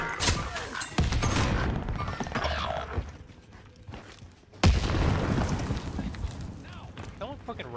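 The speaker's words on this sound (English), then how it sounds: "Someone's like trying to snipe me with rockets, bro." Rocket explosions in Call of Duty on Rebirth Island land as two sharp, loud booms a few seconds apart, set against continuous game noise and a player talking over it.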